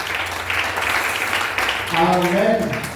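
A church congregation claps and cheers for the Lord, steady broad applause filling the room while a voice speaks over it, with a sung or shouted tone rising near the end.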